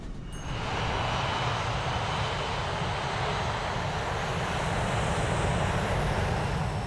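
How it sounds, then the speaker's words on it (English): Aloha Airlines Flight 243, an airliner, roaring on its takeoff run: a loud, steady broadband engine rush that swells in within the first second and holds constant throughout, with no voices. "At 1:25, Flight 243 is ready for takeoff."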